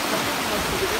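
Water trapped in a triangle between two dams rushes out in a loud, steady, broadband roar of churning flow, heard close and continuous for a brief moment.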